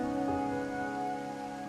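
Rain in the video game Wuthering Waves, a steady soft patter on surfaces beneath sustained tonal game ambience, with no talk.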